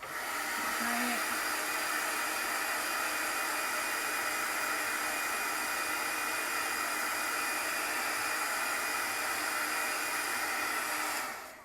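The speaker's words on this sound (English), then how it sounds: "This is a heat gun that I had bought years and years ago for embossing on stationery" Continuous loud hiss of a heat gun blowing air, steady and unbroken for several seconds before cutting off at the end.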